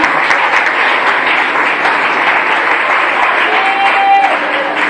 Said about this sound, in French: Est-ce qu'on peut les acclamer pour les encourager?